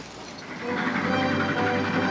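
A train heard from a film's soundtrack, a steady rolling rumble with low mechanical hum that swells after the first half second and stays loud for the rest of the short stretch.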